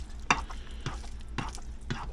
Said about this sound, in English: you just want to keep chopping and stirring on it